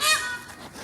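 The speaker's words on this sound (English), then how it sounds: "You see a peacock is outside screaming" A peacock scream from outdoors near a chicken coop: one loud, high-pitched wail that peaks right at the start and then fades, close and strong.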